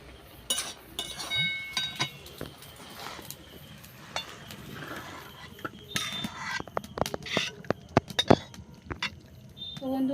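A pan of chichinga (snake gourd) greens cooking with potato and brinjal is stirred with a spatula, giving scattered clinks and scrapes of metal on metal over a soft sizzle.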